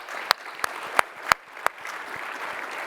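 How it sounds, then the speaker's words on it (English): A handful of sharp, isolated hand claps ring out at uneven intervals over a low background hiss, sounding like scattered clapping from a few people rather than full applause. "Clap it up for that."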